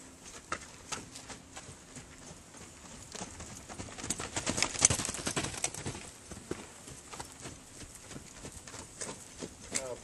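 Horse hooves clip-clopping steadily on the ground as the horse is lunged on a circle, a quiet repeating patter of footfalls with faint background noise and a brief louder stretch midway.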